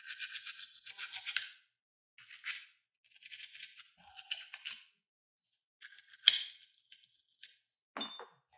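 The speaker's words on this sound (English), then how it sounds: "Move on to the frame and trigger assembly. Start by brushing everything down." Quick bursts of stiff bristle scrubbing come from a brush worked over a pistol frame and trigger assembly, close and fairly quiet, with pauses and a few small clicks between strokes.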